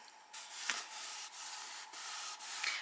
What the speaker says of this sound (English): Give it a really good smooth down with your fingers